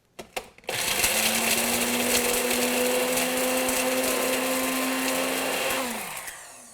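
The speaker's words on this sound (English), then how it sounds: "So we're going to throw this in the blender over here for just a second." A blender grinds dried yarrow into powder, its motor starting after a few knocks and holding a steady loud whine for about five seconds before winding down, with no talk.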